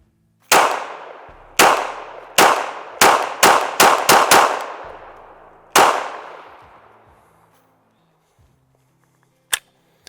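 Eight sharp pistol shots from a PSA Sabre Dagger ring out in a quick bill drill: one, a pause, then a rapid string of six with close reverberant tails, one last shot after a gap, and a faint metallic click at the end.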